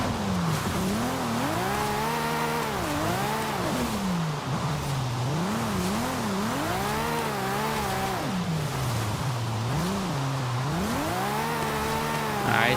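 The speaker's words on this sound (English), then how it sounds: "We're gonna keep the drift going." A car drifts in Forza Horizon 5, its engine revving and wailing up and down in long sweeps while the tires squeal continuously, loud and close throughout with no talk.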